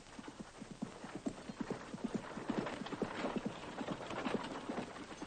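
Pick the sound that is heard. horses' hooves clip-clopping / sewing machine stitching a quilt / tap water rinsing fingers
horses' hooves clip-clopping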